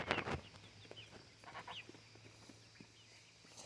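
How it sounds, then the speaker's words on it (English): A rooster among hens in a farmyard flock gives faint, short clucking calls over a low outdoor background. "That is a rooster."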